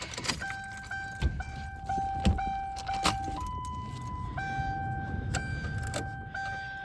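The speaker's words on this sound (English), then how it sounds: "I recommend going ahead and turning on your ignition" Turning the ignition on in a Ford Crown Victoria: keys jangle and click in the switch, and steady warning chimes ring in a repeating two-tone pattern, close and clear inside the car.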